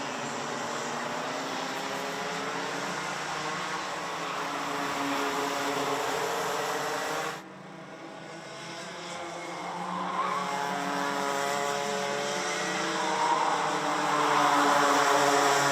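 Mini Max racing karts in a final pour through a turn as a pack, their high buzzing two-stroke engines overlapping and rising and falling in pitch, with a brief dip before the next group screams past.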